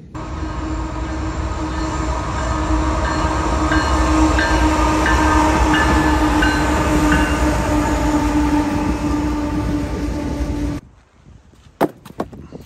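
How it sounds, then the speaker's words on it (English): A train rumbles past close by, loud and continuous with rattling wheels for about ten seconds, then cuts off abruptly, leaving a few faint clicks. "we're gonna wait for the train"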